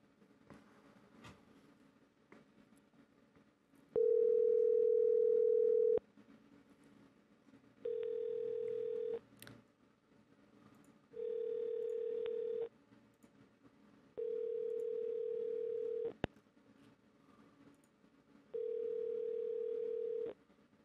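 Telephone line with a long steady dial tone followed by four repeated tone bursts separated by quiet gaps, a few faint clicks between them, no voices.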